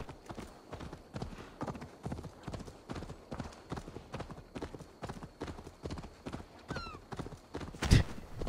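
A horse gallops with rapid, even hoofbeats in the video game Assassin's Creed Valhalla, a steady rhythmic clip-clop across the whole stretch, ending in a sharp thud with a brief squawk just before.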